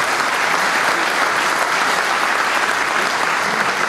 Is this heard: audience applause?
yes